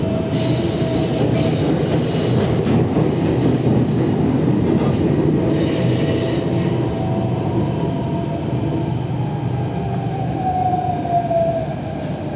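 A metro train in Noida rumbles loudly through a station, wheels squealing high and long over a constant heavy roar, with no talking.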